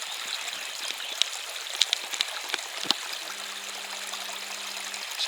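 A small cascade in a river fishing spot runs in a steady, moderate rush of water, with a few sharp drips and splashes standing out and a low hum near the end.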